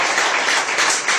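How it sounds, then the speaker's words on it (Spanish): A church congregation applauds in a dense, loud wash of many hands clapping together, heard only briefly. "¿Por qué no le da un fuerte aplauso, iglesia,"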